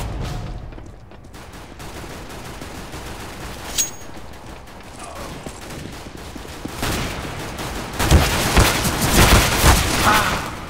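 Gunfire in the video game CS:GO Arms Race, a steady clatter of shots with louder bursts toward the end, with no talk over it.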